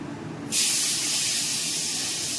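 Food drops into hot oil in a pan and bursts into a loud, steady sizzle that carries on unbroken, with no talking over it.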